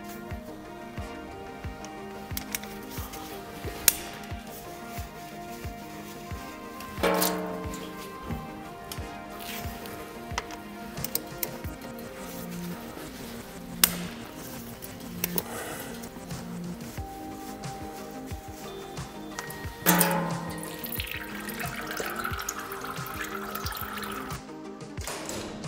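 Gearbox oil drains from the drain plugs of a Getrag automatic transmission, a continuous liquid trickle and splash running steadily for the whole stretch, with occasional knocks and clinks and no speech.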